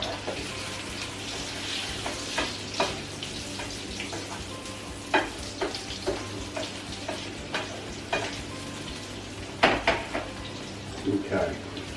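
Stuffed chicken browns in a frying pan with a soft, steady sizzle, broken by scattered clinks and scrapes of a utensil against the pan; no one speaks.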